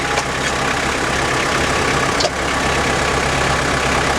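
A steady, rumbling engine idles continuously, with one short knock partway through and no voices.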